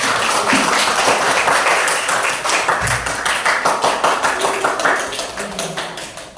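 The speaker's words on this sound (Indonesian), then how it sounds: "Tepuk tanganlah dulu" Children in a classroom clap together loudly and briskly in a fast, irregular patter that stays close and continuous, fading a little toward the end.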